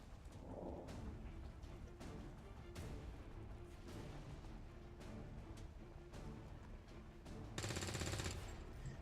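Sustained heavy ballistic gunfire in XCOM 2, dense rattling volleys with low booms running throughout and a louder burst near the end, with no talking.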